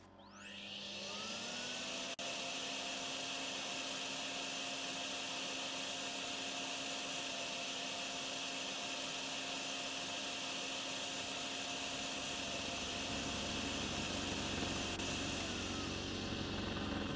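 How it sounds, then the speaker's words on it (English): A vacuum hose drones continuously inside tires in the video game Drain Sim, a steady loud mechanical whine and rush that rises at the start and holds for the whole stretch, with no voices. "it's a good idea to vacuum out your tires"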